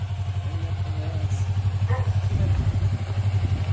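A motorcycle engine idles in neutral on a night ride through Komenoyama, Japan, a steady low rumble throughout with light mechanical clatter, close and continuous, with faint voices in the background.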